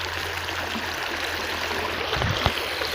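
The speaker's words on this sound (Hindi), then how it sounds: "तो यहाँ पर इसको वाटरफॉल कहें या हम लोग कुछ भी कहें, तो ये कहीं वाटरफॉल से रहा है" Cold glacier meltwater rushing down a waterfall stream in Kashmir, a loud, steady broadband roar of flowing water close by with a brief splash or gurgle near the end.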